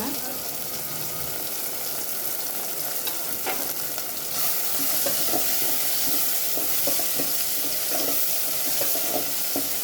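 Green chillies go into a hot pan for soupy noodles, a close, continuous sizzling hiss with stirring scrapes that turns louder and brighter halfway through, with no speech.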